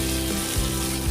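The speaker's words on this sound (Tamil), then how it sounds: "கோல்டன் ப்ரௌன் ஆகிற வரைக்கும் நல்லா ஃப்ரை பண்ணி எடுக்கலாம்." Chopped onions frying in a pot for home-style mutton biryani, a soft steady sizzle with faint low bubbling pops, brief and fairly quiet.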